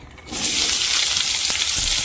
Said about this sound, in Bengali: তেলটা গরম হয়ে গেছে, আর পেঁয়াজ আর লঙ্কাগুলো প্রথমে ভেজে